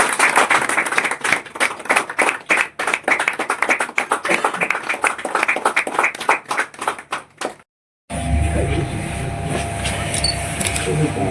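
Audience clapping at a welcome ceremony held by homeopathy college teachers in Azamgarh, a dense run of loud, close hand claps for about seven seconds, then a brief dropout and a quieter room tone with murmuring.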